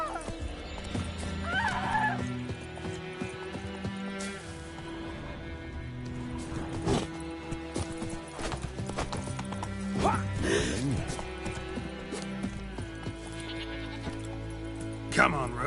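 Roach, the horse in Witcher 3, trots with clip-clop hooves and lets out whinnying neighs amid busy game sounds, with someone talking over parts of it.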